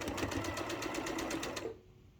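A sewing machine runs a quick back stitch on a reusable fabric bag, a steady rapid needle clatter close by that stops abruptly near the end, leaving quiet.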